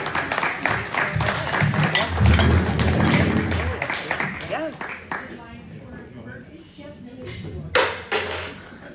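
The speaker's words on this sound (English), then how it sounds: "A ripple of applause for Matthew." Audience at an evening church presentation gives a short ripple of applause, scattered clapping that builds and then thins out, with some clinking and murmuring nearby.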